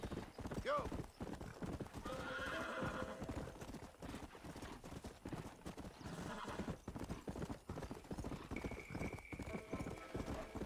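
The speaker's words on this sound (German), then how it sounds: "finden wir jetzt bald mal noch ein zweites apokalyptisches Pferd" Undead horse in Red Dead Redemption: Undead Nightmare, with steady clip-clopping hooves and a whinny near the start, under game sounds and someone talking in German.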